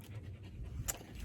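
A dog pants on a warm mountain hike on Frenchman Mountain near Las Vegas, giving quick soft rhythmic breaths close by under faint outdoor wind, with one brief sharper noise near the end.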